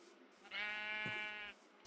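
A single sheep in a video game bleats while being sheared with shears, one clear wavering call lasting about a second, alone and close.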